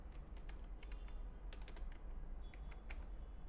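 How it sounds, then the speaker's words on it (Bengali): Fingers tap out a search query on a computer keyboard, with quick irregular keystrokes and brief pauses over a low background hum, faint and close. "এখানে ধরেন লিখলাম যে সাকিব আল"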